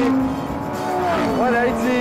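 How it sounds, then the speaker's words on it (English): A supercar engine drones loudly at high revs, its pitch sliding and climbing as it shifts, heard from inside the vehicle. "I don't even need music, I just listen to the engine playing"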